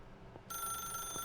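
A telephone rings in the video game The Stanley Parable, a bright, steady electronic ring that starts abruptly partway through and carries on to the end, close and fairly quiet.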